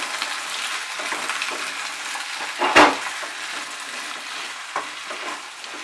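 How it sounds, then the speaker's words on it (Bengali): Vegetables for a tangra fish curry being stirred in a pan over a low flame make a steady soft sizzle, with a brief loud scrape of the spatula partway through. "সবজিগুলো দেওয়ার পর এবারে আমি আঁচটাকে একদম কমিয়ে দিয়ে আগে ভালো করে মিশিয়ে নিচ্ছি"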